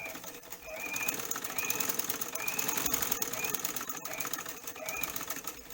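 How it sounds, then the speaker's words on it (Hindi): Pedal-driven sewing machine stitching a patch pocket: a fast, steady mechanical chatter of needle strokes, running continuously at moderate level with slight pauses in pace. "with pedal I will start stitching"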